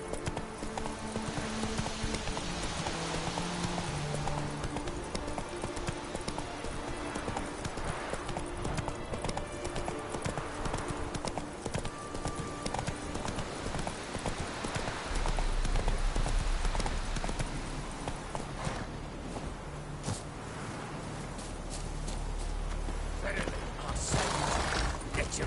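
Roach, Geralt's horse in The Witcher 3, gallops with steady, rapid hoofbeats throughout, heard close under a swelling game score and ambient noise, with a whinny possible near the end.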